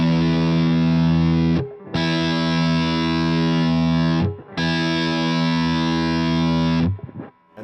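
Electric guitar through an amplifier with a graphic EQ engaged, playing three long, thick distorted chords with short breaks between them; a voice speaks briefly near the end.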